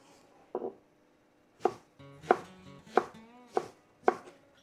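Knife finely chopping strawberries on a board, with single crisp cuts at first, then a steady run of five evenly spaced chops, close and clear with no talking.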